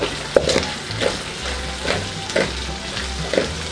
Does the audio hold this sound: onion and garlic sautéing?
yes